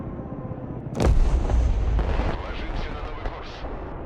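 In the Broken Arrow war game, a smart bomb dropped from an Su-34 onto a landing Osprey hits with one loud, deep blast and then rumbles on as a long, crackling tail of debris.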